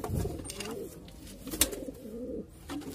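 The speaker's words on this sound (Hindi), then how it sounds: "चलिए उड़ने वाले सारे कबूतर हमारे निकल चुके बाहर" Pet pigeons on a rooftop coo softly, a few low, throaty calls close by with faint rustling and a brief sharp knock in the middle.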